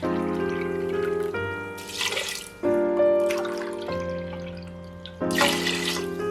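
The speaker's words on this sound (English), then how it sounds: "That means I'm going to add 2 cups of water." Water poured from a cup onto basmati rice in an Instant Pot, several short splashing pours separated by brief pauses, heard up close over a steady tonal background hum.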